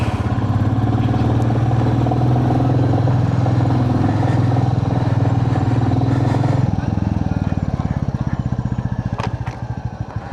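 A motorcycle rides downhill from Darjeeling on a cold mountain road, its engine droning loud and close throughout, then dropping into a rougher, lower rumble partway through. No one speaks.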